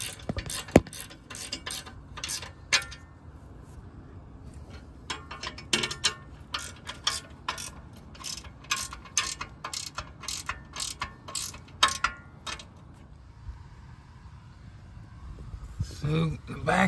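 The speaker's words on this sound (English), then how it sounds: "Gonna finish up tightening in the front, get it straight, and then come back and tighten the back." A ratchet tightens nuts on a mini excavator's skid plate, giving bursts of fast close clicking strokes separated by short pauses, with someone talking in between.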